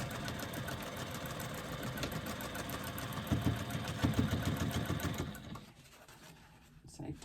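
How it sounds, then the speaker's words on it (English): A sewing machine runs in steady rapid stitching, stitching down a garment side through the facing and zipper end, close and continuous before slowing and stopping near the end, leaving quieter handling noise. "I'm going to go through the facing, the end of the zipper, and all the way down the side"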